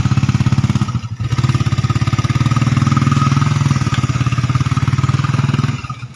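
A motorcycle engine runs steadily and loud up close, a low rhythmic idle throb with a brief dip near the start before settling back into a constant chug.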